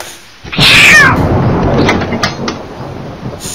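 In the horror video game The Intruder, a cat gives one loud, sudden meow that rises and falls, sounding close and harsh over a rumbling background that slowly fades.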